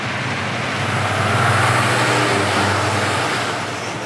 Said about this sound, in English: Finally, the trucks enter the outskirts of the capital.